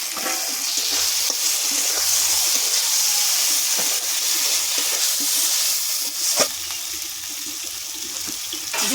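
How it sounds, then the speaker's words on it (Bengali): Masala with coriander leaves fries in hot oil for a tangra fish and eggplant curry, giving a loud steady sizzle broken by occasional stirring scrapes. "একটু ধনে পাতা দেব, কষে নেব তেল ছাড়া অবধি"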